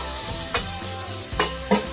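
Spiced masala paste frying in a pan for Malvani aloo fatfata, with a steady sizzle under a few sharp scrapes of a spoon stirring it, close and fairly loud.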